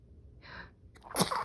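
A single short sneeze, preceded by a soft inward gasp, close and fairly quiet.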